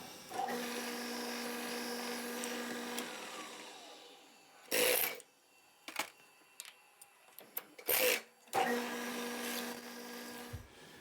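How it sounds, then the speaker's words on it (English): A power drill boring a 1/4 inch hole through a metal bar for a lathe indicator holder's thumb screw, a steady whining motor with rising pitch, followed by several short, loud bursts and clicks. "I'm gonna come down here and drill a 1/4 inch hole"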